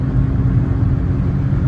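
Daihatsu Mira Gino accelerating on a highway, heard from inside as a loud, steady low engine and road drone with no clear change in pitch.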